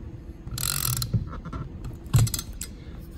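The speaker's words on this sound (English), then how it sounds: "you can see the bottom of the bolt turning. So it's biting and doing its job in either direction" A Gearwrench Bolt Biter ratchet turning a stripped bolt, giving close, crisp ratcheting clicks and pawl rattles in quick uneven runs with a couple of louder clacks.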